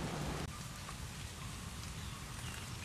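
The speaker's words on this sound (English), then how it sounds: "Really happy to see some rain today." Steady rain falls over a home vegetable garden with watermelon, tomatoes and fig plants, a continuous soft hiss of drops hitting leaves and soil with no voices.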